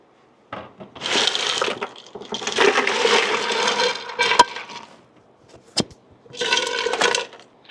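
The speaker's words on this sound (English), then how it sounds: "I'm going to go ahead and just dump some ice in the top of this." Ice dumped into the top reservoir of a portable evaporative air cooler: several separate bursts of rattling, clattering cubes tumbling into plastic and water, with short pauses and a sharp knock between pours, close up and fairly loud.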